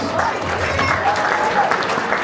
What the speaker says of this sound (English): show your appreciation with a warm round of applause